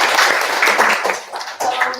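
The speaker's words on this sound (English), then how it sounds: "So let's give a big round of applause again." An audience at a junior stage performance event claps in a dense, steady burst of applause for two seconds, close and fairly loud, with a brief dip in the middle.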